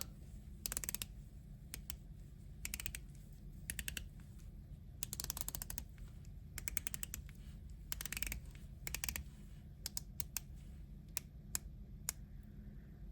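The 60-notch ceramic bezel of a Hamilton Khaki Navy Scuba watch on a stainless steel bracelet is turned, producing faint, close, crisp ratcheting clicks in short bursts separated by quiet pauses.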